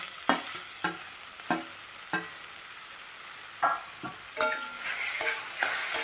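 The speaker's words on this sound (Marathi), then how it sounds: "परत मी चांगलं आपण असं मिक्स करून घेऊया" Spoon stirring a mashed drumstick (moringa pod) mixture as it fries and sizzles in a pan, with a steady sizzle broken by repeated sharp scraping strokes spread through the clip.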